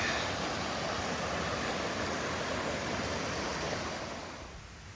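Water rushing by a hiking campsite on the Pacific Crest Trail: a steady, broad, loud roar of flowing water that fades slightly at the end.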